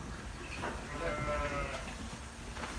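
Sheep and lambs bleat a few times from nearby amid a low village farmyard background, their wavering calls overlapping briefly.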